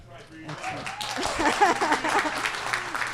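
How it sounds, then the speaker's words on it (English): Applause from the audience at a Connecticut small business summit swells and continues, with a voice talking over the clapping. "let's keep those hands clapping, and let's thank her for her service"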